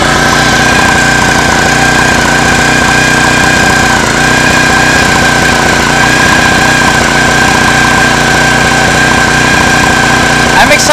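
A homemade outboard motor built from a lawn mower engine runs steadily, loud and close, with a constant buzzing drone and rattling vibration throughout.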